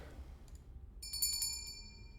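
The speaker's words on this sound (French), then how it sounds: "le téléphone extérieur était HS. Or, ça fait 2 fois qu'il sonne" A telephone rings once in a horror tabletop role-playing session, a short bright burst of rapid bell trills that stands out over low background hum, with no speech.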